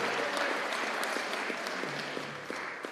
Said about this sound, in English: let's give them a big round of applause, if you would, for the opportunity they're going to have.